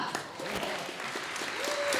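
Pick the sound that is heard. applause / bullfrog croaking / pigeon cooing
applause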